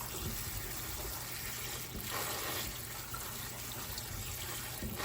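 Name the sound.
rinsing salted cabbage under running tap water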